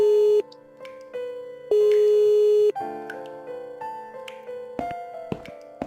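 A bell rings in the video game The Cat Lady, heard as sustained electronic tones that give way to a quicker series of shorter ringing beeps and clicks, loud and close.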